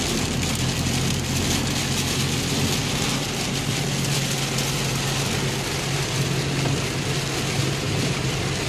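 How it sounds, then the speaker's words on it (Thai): Steady, heavy rain falls continuously, a dense hiss of drops on surfaces with a low rumble beneath. "ก็มีฝนตก"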